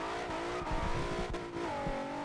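A car engine in Forza Horizon 2 revs and accelerates with steady harmonic engine tones that climb and shift through gears, loud and close, with no talking.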